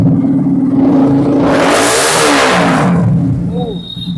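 A second-hand motorcycle with an aftermarket exhaust system revs up into a loud roaring burst, then settles back to a lower idle.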